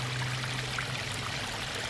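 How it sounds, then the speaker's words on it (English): A small waterfall flows at the lake in Silverdale Country Park, a steady broad splashing rush with a low hum beneath, continuous and unbroken. "There's a nice little waterfall,"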